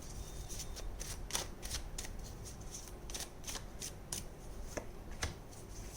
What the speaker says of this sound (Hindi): यहाँ बहुत सारे कार्ड्स आ गए हैं, फिर से शफल करेंगे।